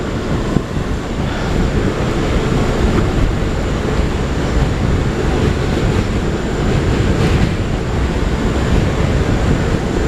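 Heard from aboard, an R179 subway train on the A line runs at speed with a dense, continuous roar and rattle that stays loud and even throughout, with no voices.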